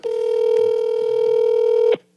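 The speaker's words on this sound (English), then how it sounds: "All right, call her up." A single steady telephone keypad tone sounds for about two seconds, loud and close, then stops abruptly.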